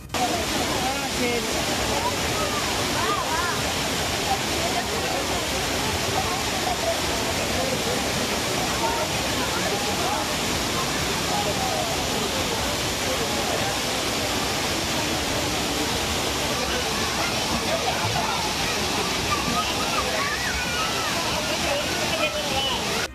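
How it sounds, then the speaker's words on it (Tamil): Agasthiyar waterfall at Ambasamudram pours down in full flow, a loud, steady, unbroken roar heard up close, with voices faintly mixed underneath. "அருவியில் தண்ணீர் ஆர்ப்பரித்து கொட்டுவதால்"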